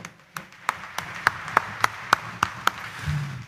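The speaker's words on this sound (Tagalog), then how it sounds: "Itaas nga natin ating kamay at pumalakpak pa ng mas malakas." A church congregation at the Quiapo shrine of Jesus Nazareno claps in a slow, steady beat of about ten sharp, evenly spaced hand claps over a low room murmur.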